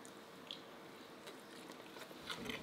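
A large wild prawn is bitten and chewed up close, giving soft squishy crunches and wet mouth sounds, quiet and intermittent with a few sharper bites near the end.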